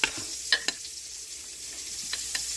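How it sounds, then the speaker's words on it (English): Meatballs browning in a hot pan with a steady, fairly quiet sizzle, broken by a few sharp scrapes and clacks as they are stirred and turned. "we're browning up our meatballs"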